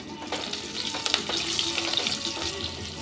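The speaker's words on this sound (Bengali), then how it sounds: "দিয়ে দিচ্ছি একটা ফোড়ন, কালো জিরে আর কাঁচা লঙ্কা" Black cumin seeds and green chillies sizzle in hot oil as a tempering for a Bengali fish curry, a steady close crackling fry with brief louder spits and pops.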